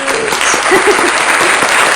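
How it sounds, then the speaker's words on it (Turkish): A short burst of clapping at home while a Christmas tree is decorated, close and fairly loud, with a voice briefly audible over it. "Alkış."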